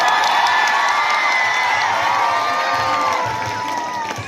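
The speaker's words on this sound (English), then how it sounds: "With a huge round of applause." A crowd at a school Teachers Day celebration breaks into loud applause and cheering, a dense wash of clapping and shouts that fades slightly toward the end.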